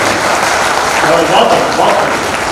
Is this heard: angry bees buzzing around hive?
no